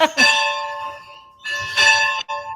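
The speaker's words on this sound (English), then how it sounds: "Oh, you're ringing the church bell?" A church bell in Veneta rings with bright, sustained metallic tones, struck twice with a pause between strikes, each peal ringing out clearly.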